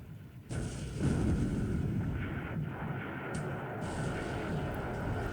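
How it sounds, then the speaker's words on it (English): A loud, sudden blast erupts after a quiet start, followed by a sustained roaring rumble with further bursts layered in: a ship's magazine explosion after a torpedo hit in a Pacific naval war game. "And a megagen explosion. Boom."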